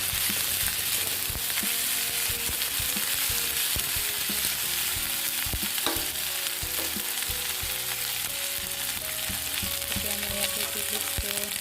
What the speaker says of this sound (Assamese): ইয়াতে মই এতিয়া দিছোঁ নহৰু আদা পেষ্ট।